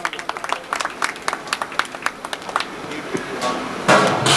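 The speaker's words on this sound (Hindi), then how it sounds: "जोरदार तालियों के साथ उनका स्वागत।" Audience giving a warm round of applause to welcome a guest at a spiritual discourse gathering, a burst of clapping, close and lively, that thins out toward the end before a louder surge of sound.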